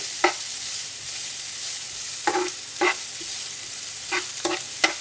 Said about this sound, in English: I'm not waiting for the onions to brown, just to soften.